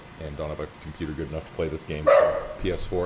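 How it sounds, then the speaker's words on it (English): A dog barks a few times in the background of a home recording while someone talks over it, the sharp yips short and partly masked by his voice. "And that's a dog."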